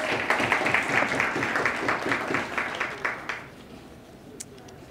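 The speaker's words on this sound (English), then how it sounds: "One more applause for Representative Rena Moran." Applause from a crowd, fairly loud for about three seconds, then quickly fading out into quiet with a few scattered claps.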